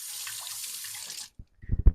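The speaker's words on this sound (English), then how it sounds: "So I'm just going to go to the sink and rinse this off." Tap water runs into a kitchen sink for rinsing off a knife, a steady close hiss that stops abruptly, followed by a few soft clunks and knocks.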